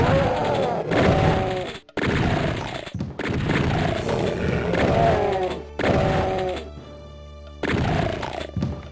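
Plasma rifle fire and roaring, growling demons in a Doom SIGIL fight against gunners and demons, loud and continuous with brief dropouts.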